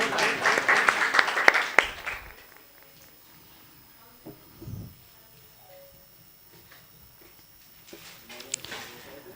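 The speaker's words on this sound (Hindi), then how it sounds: "इनके सम्मान में एक बार फिर से जोरदार तालियां।" An audience at a 2023 Diwali award ceremony gives a brief burst of clapping that fades after about two seconds, leaving a quiet hall with faint shuffling and scattered later claps.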